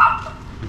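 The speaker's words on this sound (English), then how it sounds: "Attack dog." A dog barks once, loud and close, in a short burst on a street in Chumphon, Thailand, and a brief tail of lower noise follows.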